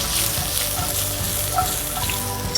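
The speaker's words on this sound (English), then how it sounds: "So now the delicata goes in, and it's frying in rosemary oil." Delicata squash fries in rosemary oil in a pan, giving a steady, dense sizzle with crackling pops throughout, close and fairly loud with no voices.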